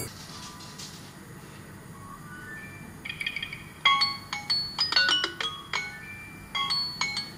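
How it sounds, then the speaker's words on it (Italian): A music box chimes in the background of a home, with a child playing. Its soft, tinkling notes come in a quick run of plinks after a quiet stretch, faint and a little distant over a low room hum. "Scusate il sottofondo carillon, ma è Ale che sta giocando."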